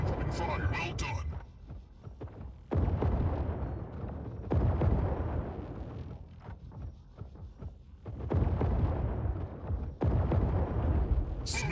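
Gunfire and explosions in the Mech Arena video game: booming, rumbling bursts of heavy weapon fire in long sustained stretches, loud and close, briefly dropping between volleys, with game announcer voice lines over it.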